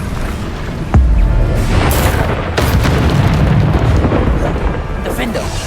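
A Bombarda blasting spell in Hogwarts Legacy goes off with a sudden heavy boom, then a long rumbling, crackling roar of debris and combat noise that stays loud to the end.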